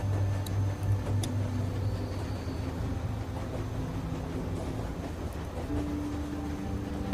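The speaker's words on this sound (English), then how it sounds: "Yeah, we're trying to stop the train." A moving train in The Walking Dead video game rumbles with a low, steady drone, faint rail ticks and clanks, and a tonal hum rising near the end, with no talking.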